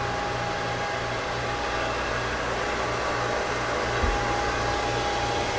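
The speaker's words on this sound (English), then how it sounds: "That's a nice engine room." Steady, loud machinery hum fills the engine room of a 2017 Marlow yacht, a constant broadband drone with a low throb and a faint tonal whine, unchanging throughout with no talking.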